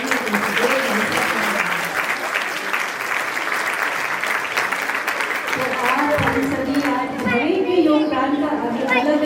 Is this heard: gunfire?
no